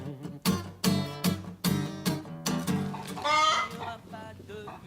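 Chickens clucking in short, repeated bursts with a steady rhythm, close and fairly loud, and a rising squawk near the middle.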